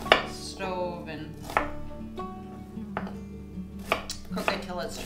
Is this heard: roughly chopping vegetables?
yes